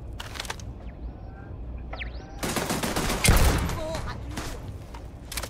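A turret fires bursts of gunfire in a Starfield space combat match, loud and rattling for a few seconds mid-clip amid other game noise, with a player talking.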